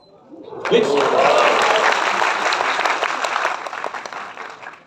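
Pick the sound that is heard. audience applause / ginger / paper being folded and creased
audience applause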